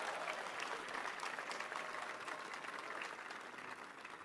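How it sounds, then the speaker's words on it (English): A crowd at the 2017 Tesla Model 3 event applauds, a dense, steady wash of clapping that holds at an even level for the whole stretch without letting up. "Give yourselves a round of applause,"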